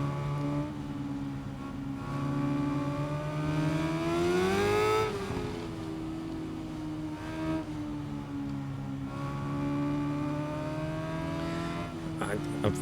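Motorcycle engine in the Ride 5 racing game on PS5 drones and revs steadily, its pitch climbing to a loud peak midway before easing back into a sustained hum, with soft game ambience underneath.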